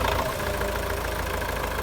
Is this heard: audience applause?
no